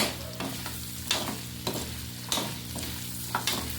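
Pork adobo with potatoes being stirred in a sizzling pan, with steady frying hiss and several rhythmic scraping strokes of the spoon, close and alone with no talk.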